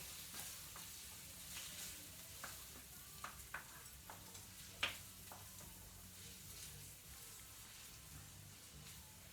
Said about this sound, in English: Stir, they're all cooking nicely.